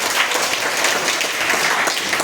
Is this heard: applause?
yes